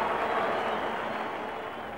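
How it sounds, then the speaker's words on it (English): Steady roar of a large cricket crowd at a one-day international series match in Australia, a dense, continuous wash of cheering that fades slightly over two seconds, with no commentary over it. "Big roar from the crowd."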